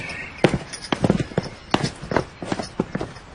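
Horse walking on a hard surface, a string of clip-clopping hoofbeats in an uneven rhythm, close and clear, with faint rustling in between.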